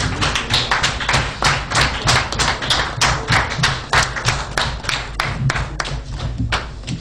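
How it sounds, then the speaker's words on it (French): Audience at a mayoral investiture ceremony in the commune of Aplahoué, Benin, applauding with steady, dense hand clapping that carries on for several seconds, fairly close and loud. "Ça s'applaudit."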